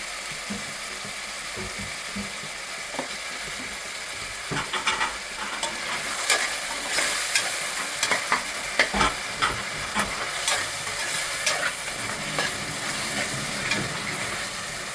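Tomatoes with salt frying in a pan, a soft continuous sizzle with scraping stir strokes and small clicks growing busier in the second half, no voices.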